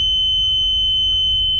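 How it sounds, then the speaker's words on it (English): A loud, continuous high-pitched electronic alarm tone from a marine water ingress alarm system under test sounds steadily without a break over a low background hum. "As you press it, the alarm bell comes."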